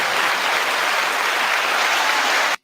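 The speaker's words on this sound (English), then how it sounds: "Give the applause." Steady applause rolls on without a break, a dense even wash of clapping that cuts off abruptly at the end.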